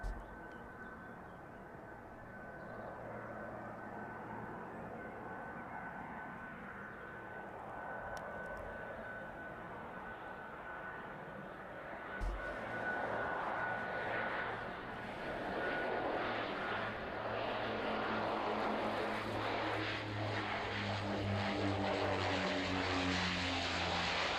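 A propeller airliner from the Isle of Man descends gently to land at East Midlands airport in the evening, its engine drone distant at first, then growing louder and closer toward the end.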